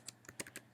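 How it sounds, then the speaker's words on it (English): Quick, quiet keystrokes on a computer keyboard, a handful of light clicks in under a second, faint and close with no talking. "you want to type in net.minecraft."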